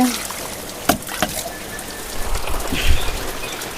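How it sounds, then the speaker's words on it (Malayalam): Heavy rain pours down in a constant dense patter, with a few louder knocks and drips close by. "ഇത്രേ നല്ല മഴയാണ്"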